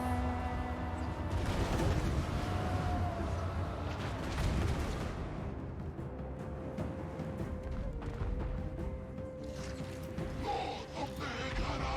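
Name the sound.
cannon artillery fire in a video game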